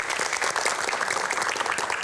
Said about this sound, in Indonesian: Mana boleh tepuk tangan dari Budi Luhur?